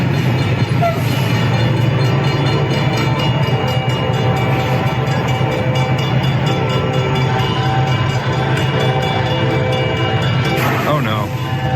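A train rumbles steadily past with a sustained horn blast, loud and continuous throughout, played back over a morning radio show.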